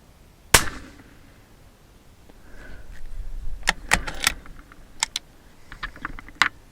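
A single sharp, loud .223 Remington rifle shot fired while hunting rings out once near the start, followed by scattered clicks and rustling handling noises outdoors.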